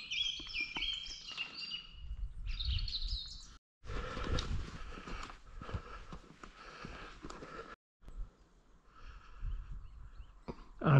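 Birds call and chirp around an empty car park outdoors, bright twittering phrases scattered across the clip at moderate distance, with faint background noise and brief gaps.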